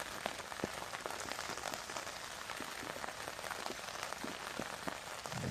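Steady rain falling in the mountains, a dense even patter of drops striking surfaces close by, quiet and continuous with no voices or other sounds.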